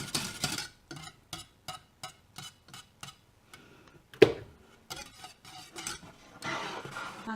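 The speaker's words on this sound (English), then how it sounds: "you can tell by whisking it how thick it's getting" A whisk scrapes and taps against a pot of sweet and sour sauce as it thickens, making a steady run of quick, evenly spaced clicks near and clear, with a sharper clink partway through and a brief looser stretch of stirring.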